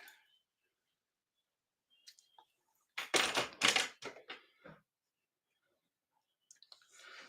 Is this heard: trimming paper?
yes